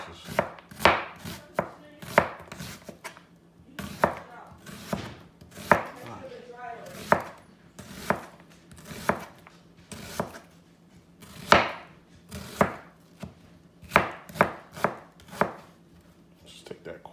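An onion is sliced with a knife on a cutting board in quick, crisp knocks, irregularly spaced and close, with a brief rustle of onion layers partway through.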